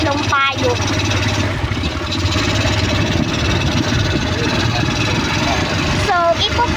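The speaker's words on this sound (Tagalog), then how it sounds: "sasakay lang kami ng motor" A motorcycle engine runs steadily nearby, a loud continuous low rumble with brief sharp mechanical bursts near the start and end, while people talk over it.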